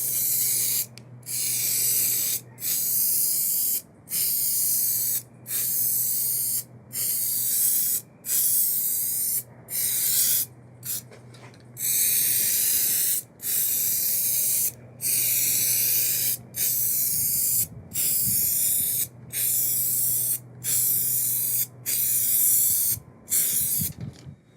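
Lacquer Shot wood finish sprayed from an aerosol can in a long series of loud, close hissing bursts, each a second or so long and separated by short silent gaps, with a faint low hum underneath.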